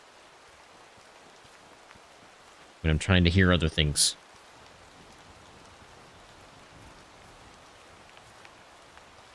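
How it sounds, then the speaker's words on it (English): Steady rain falling in the hunting game Way of the Hunter 2, a constant even hiss through the whole stretch, with someone speaking briefly over it partway through. "We get a storm, or are we just going to have some rain?"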